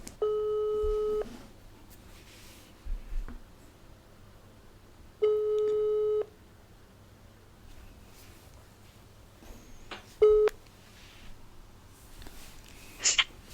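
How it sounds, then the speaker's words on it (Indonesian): A phone call being placed: two long, steady ringback tones several seconds apart, followed by a few short electronic beeps, all fairly quiet over a low background hum. "Langsung kita telepon telepon aja ya teman kita ini."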